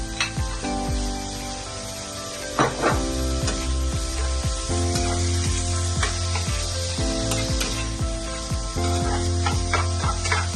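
Chicken breast hits a heated sizzling plate for spicy chicken sisig, with sautéed onions. A loud, steady sizzle runs throughout, broken by rhythmic clicking and scraping strokes, with no talking.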